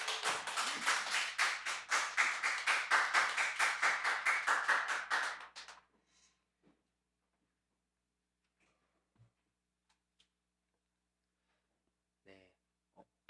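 A church congregation at a Sunday joint service claps in a rhythmic, even beat for about six seconds, fairly close and full, then stops abruptly into near silence broken only by a few faint bumps and taps.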